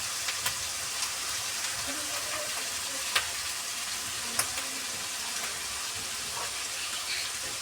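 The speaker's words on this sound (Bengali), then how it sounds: "পেঁয়াজ বাটা দেওয়া হলো, পেঁয়াজটাকে এখন সুন্দর করে ভেজে নেওয়া হবে" Onion paste fries in a pan with a dense, even sizzle that runs continuously, broken by a few faint pops and soft clinks.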